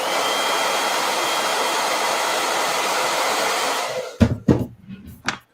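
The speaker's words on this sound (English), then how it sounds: "Hit this with a blow dryer." A blow dryer runs loud and steady during makeup application, its broadband whoosh cut off near the end and followed by a few short bumps and handling sounds.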